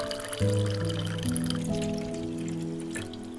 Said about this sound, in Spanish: Solo nos falta ponerle el agua, encenderla. Un poco de agua